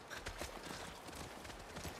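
Horse hooves clip-clop at a steady walking rhythm in The Last of Us Part I, quiet and close, with no talk over them.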